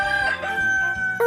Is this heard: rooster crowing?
yes